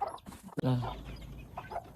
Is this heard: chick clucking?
yes